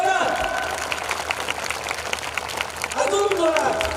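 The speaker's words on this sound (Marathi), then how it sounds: "त्यांच्यासाठी सर्वांनी टाळ्या वाजवा, जोरात," An audience at a Marathi devotional kirtan gathering claps in a rapid, rattling burst, with a voice speaking before and after the clapping.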